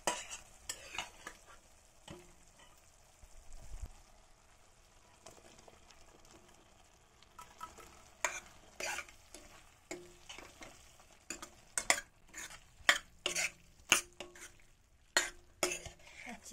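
Lotus stem with ground fennel and spices being stirred in a frying pan: quiet sizzling under repeated spatula scrapes and taps that grow busier and louder toward the end, close, with no voices.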